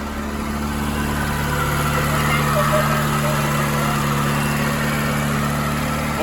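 A 1984 Peugeot 205 GT engine idles steadily up close after finally starting, a continuous even running drone with no revving, lasting the whole stretch.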